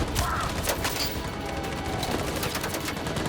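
Gunfire during an assault in the Detroit: Become Human video game: a sustained, fairly quiet fusillade of rapid overlapping shots, like several weapons firing at once, rattling continuously throughout.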